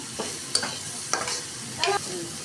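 Bitter gourd frying in a pan with salt is stirred in three short scraping bursts separated by pauses, over a faint steady sizzle.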